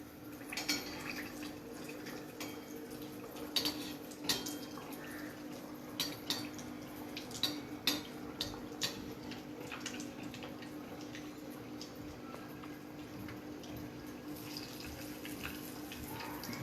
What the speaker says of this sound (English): We'll just start frying koshias. Slowly you have to fry.